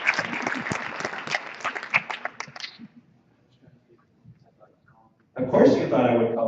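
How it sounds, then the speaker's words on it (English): Audience applause for an Army member, a burst of dense clapping for a few seconds that dies away to near silence, followed by someone speaking. "Applause for the Army."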